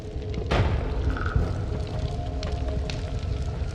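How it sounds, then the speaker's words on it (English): Bomb explosion in the video game Noita: one heavy boom bursts out early, then a low rumbling tail and scattered debris crackle that stay loud under continuous game noise. "Stay away from that explosion."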